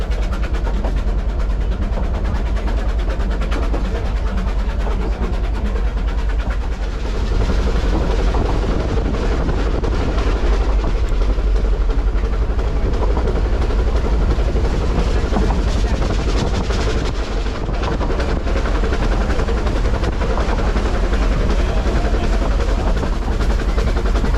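A Vale of Rheidol Railway train runs along the line through Welsh cuttings, giving a steady loud rumble and rattle heard from on board for the whole stretch, with a voice talking now and then.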